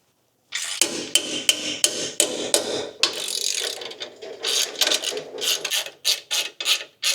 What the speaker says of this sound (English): we just hold that handle as we do this up, and it crushes it into the chassis rail.